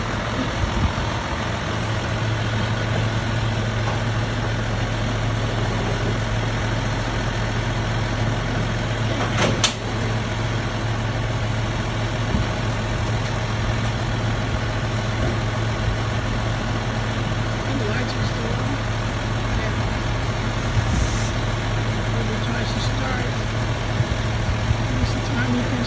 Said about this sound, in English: He turned his car in reverse alongside that truck.